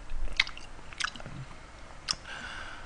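Noisy, wet chewing and biting of spicy braised pig's trotters and dumpling rice-cake soup, close to the mic, with a few sharper crunchy bites scattered over a steady background hiss.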